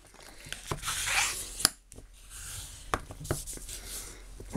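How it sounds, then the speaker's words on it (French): A5 sheet of cardstock folded in half by hand, with crisp creasing and scraping strokes, a few sharp taps and rustles, close and fairly quiet. "Qu'on va couper, non, qu'on va plier en deux."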